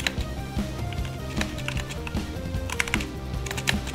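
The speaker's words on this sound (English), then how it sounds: "that's all you're gonna hear is me keyboard clicking" Rapid computer keyboard clicking, continuous uneven key taps close by over a background of game music.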